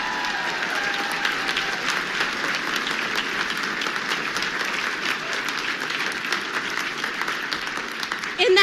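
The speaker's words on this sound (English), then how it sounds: "Let's give them a big round of applause today." A large crowd at a Trump rally in New Hampshire applauds loudly and continuously, a dense wash of clapping that carries on throughout.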